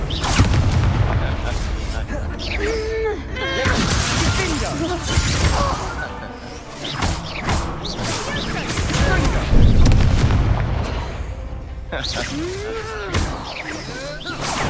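Confringo fire spells in Hogwarts Legacy: repeated loud booming blasts and crackling impacts, dense and continuous with whooshes, amid layered combat effects, with a voice talking over the action at times.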